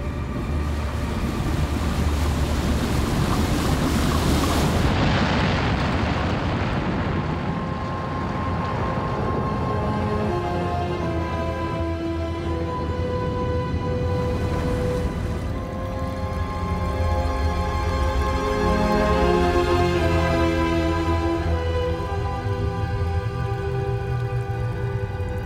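A giant wave surges through city streets, a dense, continuous roar of rushing water and wind that holds for the whole stretch, layered under a swelling tonal music score.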